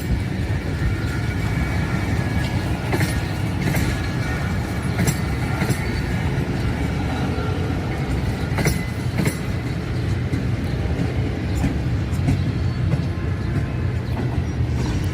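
The Green Line Express passenger train rolls slowly out of a rail yard in Pakistan, a loud, continuous rumble with rhythmic wheel clatter and occasional squeals of wheels on track, heard up close.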